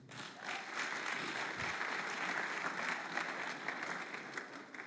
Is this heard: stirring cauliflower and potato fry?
no